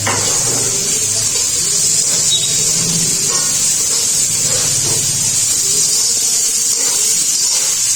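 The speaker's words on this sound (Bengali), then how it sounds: "আমি একসাথেই ভাজছি এইভাবে আপনারা যদি চান আলাদা আলাদা করেও ভাজতে পারেন" Carrots, yardlong beans and capsicum fry together in a pan of oil for chow mein, giving a steady loud hissing sizzle that runs unbroken from start to finish.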